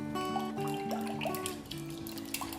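Five tablespoons of water trickle faintly into a jug holding two eggs for a date and apple loaf batter, a soft liquid splash under a humming kitchen background with tonal ringing.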